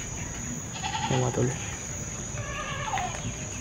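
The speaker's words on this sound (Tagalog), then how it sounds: "marami pala dito ano, kambing" Several goats bleating at a farm with many goats, two or three wavering bleats rising over a noisy background with a steady insect-like hum, while someone speaks briefly.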